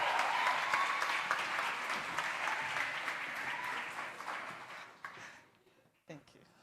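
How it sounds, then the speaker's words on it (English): Warm audience applause at a startup event fills the room steadily, a dense wash of many hands clapping that fades out near the end, leaving a brief isolated clap and quiet. "Please give him a warm round of applause."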